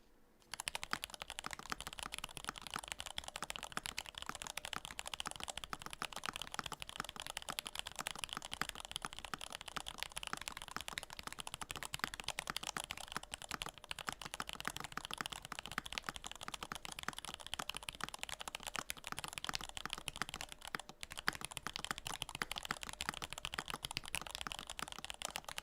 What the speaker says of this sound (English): this should be able to hear the keyboard